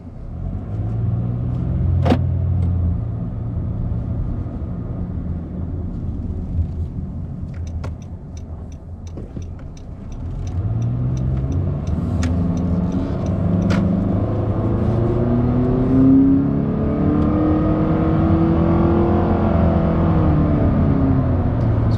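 Inside a 2013-2017 Honda Accord LX with a 185-horsepower engine and CVT, the engine rises from idle into a smooth, droning acceleration, with a steady cabin rumble that climbs in pitch and holds a sustained whir.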